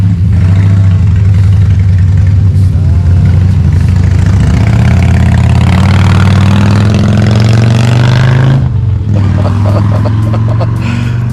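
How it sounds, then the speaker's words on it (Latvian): A heavy V8-engined motorcycle weighing over 600 kilograms runs loudly and close, with a deep steady engine rumble and a brief dip near the end before it picks back up. "V8 mocis. Pasties, ārprāt."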